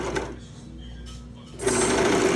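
A serger sewing machine runs in short bursts, then starts up loudly and hums steadily with a rapid mechanical chatter, close by and alone.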